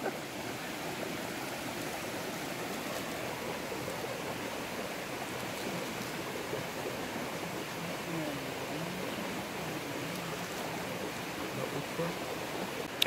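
Mountain stream flowing in the Truong Son jungle, a steady broadband rush of water running continuously at moderate distance, with faint talk buried in it.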